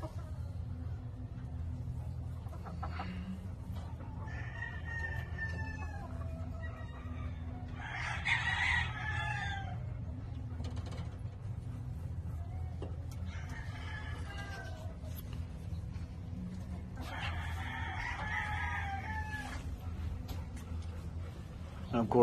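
Hens cluck and a rooster crows several times over a low, steady rumble, the crows spaced apart and fairly close, with faint voices in the background.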